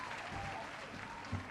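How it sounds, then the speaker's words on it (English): Canned applause sound effect played during an online anthology launch event, a brief, quiet burst of clapping lasting about a second and a half. "Here comes the applause."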